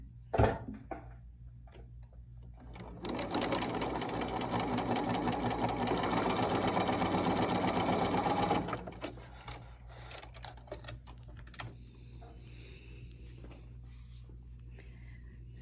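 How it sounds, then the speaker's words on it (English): A sewing machine sews a quarter-inch seam on a quilt block, running steadily for several seconds, a continuous mechanical whir that starts and stops abruptly, with quieter handling sounds before and after. "I'm going to take this to the sewing machine and just sew my 1/4 inch seam."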